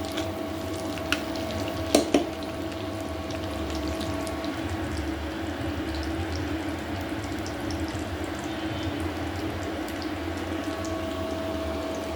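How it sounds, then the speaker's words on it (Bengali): Ghee tempering (baghar) for dal, a low steady sizzle and bubbling close by, with a couple of sharp clinks near the start. "ঘি দিয়ে আমি একটু ডালের বাগার দিব"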